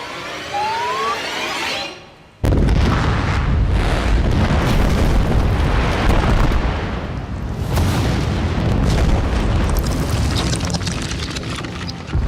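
A blast fired at an Australian gold mining site, a brief rising whistle then a sudden massive boom that becomes a long loud roaring rumble of rock and debris lasting many seconds.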